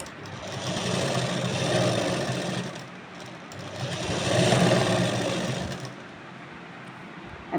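A sewing machine stitches a Rajasthani suit blouse (kanchli) in two sustained runs of steady mechanical whirring, loud and close, easing briefly between them and dropping off near the end.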